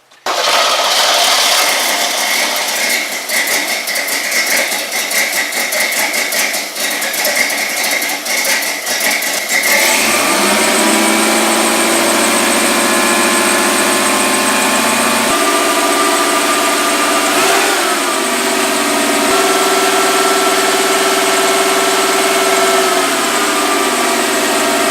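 A propane-fueled engine idles steadily and loudly as it is run until its propane supply is exhausted, its tone shifting partway through with a continuous hum and vibration, no speech.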